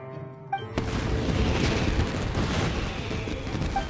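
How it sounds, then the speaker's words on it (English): Fireworks burst in the video game Genshin Impact, a sudden boom followed by a dense, sustained crackling barrage that stays loud for several seconds. "this is turning into a bit of a fireworks display"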